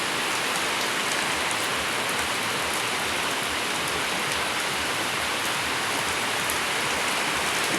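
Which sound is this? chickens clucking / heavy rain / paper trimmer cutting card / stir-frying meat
heavy rain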